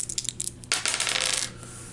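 Two dice for a carnival-themed horror board game rattle and tumble onto a hard surface, a brief clatter followed by a denser burst of rolling clicks that fades out.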